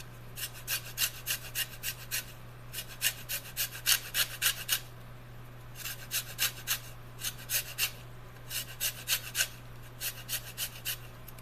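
Lemon rind being grated with a zester, a close, quiet scraping in quick rhythmic bursts of several strokes each, separated by short pauses, with no talk over it.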